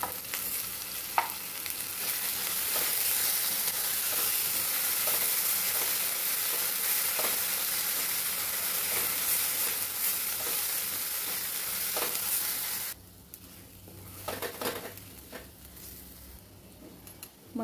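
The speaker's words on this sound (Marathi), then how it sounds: "मसाला छान असा परतून झाला" Ground masala paste with poppy seeds and onion sautés in a pan, a dense, even sizzle with occasional stirring taps that cuts to a quieter, sparser frying sound for the last few seconds.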